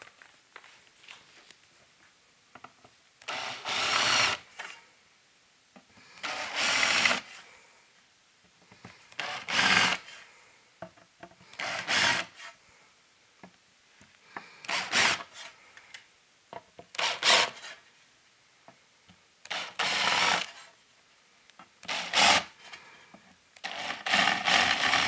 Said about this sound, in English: come back with a larger drill bit and bevel off the edges of these holes.